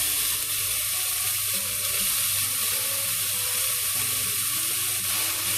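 Tofu frying in a pan with mushrooms, garlic and ginger for a vegan peanut satay ramen broth, a steady loud sizzle running throughout with faint stirring scrapes.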